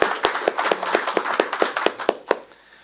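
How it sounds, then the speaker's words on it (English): A handful of people clap at a conference session, producing a brisk, fairly close run of distinct hand claps over a few seconds that taper off and stop. "And I would also ask for equally big applause for Cyril,"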